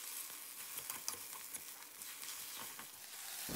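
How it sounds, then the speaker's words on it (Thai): Constant crackling sizzle of noodles with chicken stir-frying in a hot wok, with soft scraping and tossing noises from stirring throughout, fairly quiet. "แล้วก็ผัดคลุกเคล้าให้เข้ากันนะครับ"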